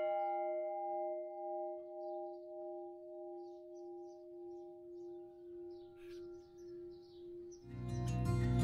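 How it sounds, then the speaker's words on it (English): A church bell tower in the Saxon village of Copsa Mare, Transylvania, striking the three-quarters hour: a sustained, ringing bell tone with slowly pulsing decay, followed near the end by a louder, broadband burst of sound. "just in time for the three-quarters bell strike"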